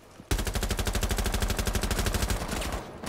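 Rapid automatic gunfire in Rainbow Six Siege rattles out in a sustained, evenly spaced burst of about twenty-five shots, loud and close, with no talk over it.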